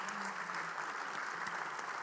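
Audience applause fills a conversation-style talk event about abortion information, a steady dense clapping wash lasting about two seconds at moderate level, with no voices standing out.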